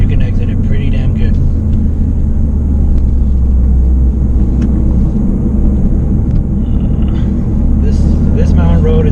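A Toyota GR Corolla engine droning steadily from inside the cabin on a mountain road, a loud low rumble with road noise, while a person talks over it.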